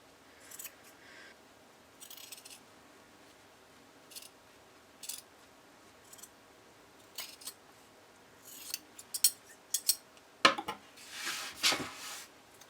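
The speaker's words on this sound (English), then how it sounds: "Then trim off the excess seam allowance." Scissors trim excess seam allowance from fabric on a cockatiel plush, giving quiet, separate snips at first that grow into quicker, louder crisp cuts toward the end, close up with no voices.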